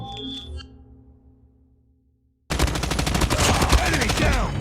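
Call of Duty gameplay gunfire: after a short stretch of fading game sound and near silence, dense rapid automatic fire bursts in loud and continuous, with rattling shots packed close together.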